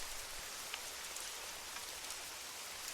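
Rain falls steadily in a dense, even hiss of drops, soft and continuous throughout with no other sounds.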